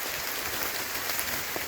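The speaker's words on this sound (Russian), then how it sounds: "Так, мы приехали, льет дождь." Heavy rain pours down on a forest campsite, a dense, constant hiss of drops hitting the surfaces around, steady and without speech.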